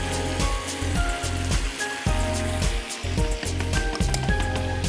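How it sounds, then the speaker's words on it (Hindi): Onions are added to hot oil in a karhai for ginger karhai, making a dense, continuous crackling sizzle like rain on a surface over a pulsing low hum, with no talking. "यहाँ हम इसमें ये प्याज शामिल कर देते हैं।"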